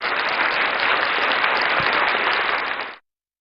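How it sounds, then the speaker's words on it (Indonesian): Audience applause at a church service, a dense, sustained wash of clapping from a crowd that carries on for about three seconds and then stops abruptly. "kasih tepuk tangan dong."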